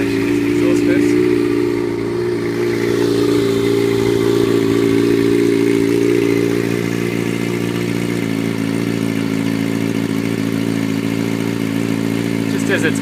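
A Kawasaki Ninja ZX6R's exhaust runs at a steady, close idle, with a deep, even burble that holds without revving for over ten seconds.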